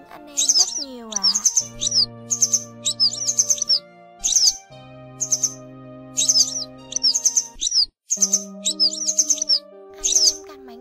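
Song of a Vietnamese chiền chiện vàng lark, with rapid bright chirps and trills repeating in close bursts over a steady lower tone, loud and near.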